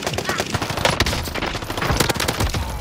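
Rapid bursts of gunfire fill a Call of Duty: Modern Warfare match, sharp repeated shots crackling loud and close in a steady barrage, with faint voices in the mix.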